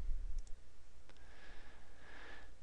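A computer mouse gives a couple of faint, quick clicks near the start, followed by quiet room noise and a soft hiss.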